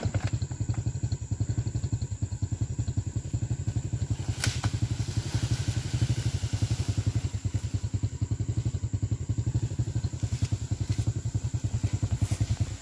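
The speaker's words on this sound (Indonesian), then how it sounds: "Ini motor cadangan buat tarik." A spare motorcycle engine pulling a cart loaded with oil palm fruit, a steady fast-pulsing engine chug heard close and continuously, with occasional clatter and knocks from the cart.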